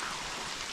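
Steady rain falls during a rest stop on a trekking hike in the Pfalz forest, a soft continuous hiss of drops filling the short moment with no voices.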